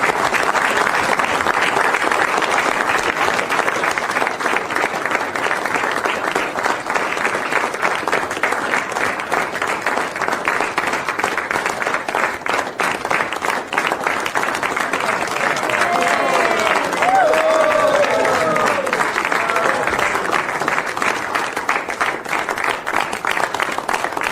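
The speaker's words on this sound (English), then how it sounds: "you can hear Republicans there cheering in the Oval Office" Cheering and applause from a group of Republicans in the Oval Office after a bill signing: dense, sustained clapping with scattered shouts lasting throughout, loud and close.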